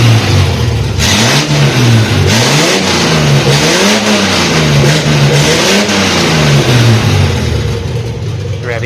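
A 1971 Datsun 240Z engine at its first startup after over 20 years revs loudly and repeatedly, the pitch climbing and dropping in a steady wave of throttle blips heard up close.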